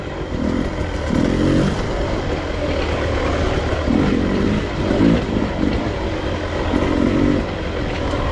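A 2022 Beta 300 Race Edition dirt bike runs under a rider, its engine a steady, continuous drone with mild swells in pitch and load, heard fairly close without any voices.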